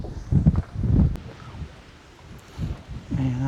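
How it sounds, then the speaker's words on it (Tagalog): Wind gusting outdoors at a construction site where steel matting is being laid, coming in low rumbling buffets that swell and fade, with a brief voice near the end. "Mahangin."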